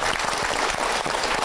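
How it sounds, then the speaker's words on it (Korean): An audience at a Korean talk show claps warmly in a brief, dense burst of applause, close and continuous with no break. "저희 박수를 청해서 듣겠습니다."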